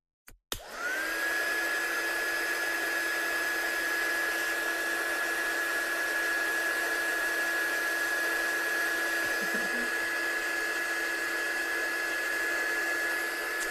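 Hair dryer switched on to dry a watercolour stencil card, giving a brief click and then a steady, fairly loud whine with a constant high tone that runs unbroken, with no talk.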